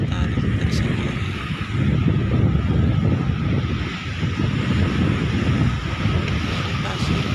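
Ocean waves wash against a rocky shore with large coral rocks at Munggu Beach, Bali, under heavy, rumbling wind buffeting the microphone, loud and continuous.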